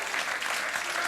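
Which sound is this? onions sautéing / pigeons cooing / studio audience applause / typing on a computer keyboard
studio audience applause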